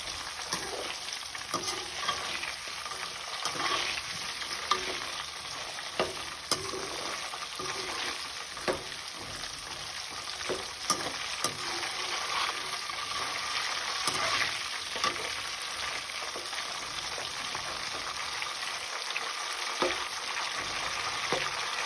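Slices of nendran banana fry in hot oil for banana chips, giving a dense, continuous crackling sizzle close by with occasional stirring pops.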